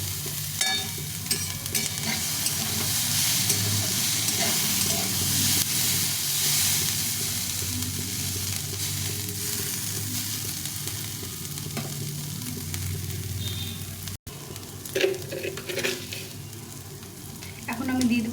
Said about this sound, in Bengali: ওটাকে এখন ভালো করে ভেজে নিতে হবে নাড়িয়ে নাড়িয়ে ভেজে নিতে হবে